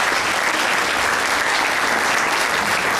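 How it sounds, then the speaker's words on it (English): A conference audience at ATAGTR2016, a software testing event in Pune, India, gives a big round of applause for keynote speaker Olaf Lewitz, a loud, dense, uniform burst of clapping that continues unbroken from start to finish. "can we have a big round of applause for Olaf here"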